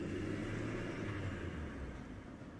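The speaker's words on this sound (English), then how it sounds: "a car started and drove off" A car engine rumbles at a distance, a steady low drone that stays fairly faint and slowly fades as the vehicle moves away.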